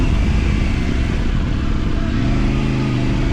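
A Triumph Tiger 900 on a trail ride, coasting on the clutch through corners, gives a loud, steady engine drone with constant wind-like rumble, close up and uninterrupted, with no talking.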